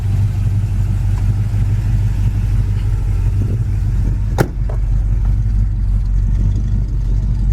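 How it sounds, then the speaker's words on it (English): A 1972 Chevy Nova SS, fitted with a mild performance cam, idles in a steady, loud, close rumble, with one brief click partway through and no talking. "This thing's got a great idle."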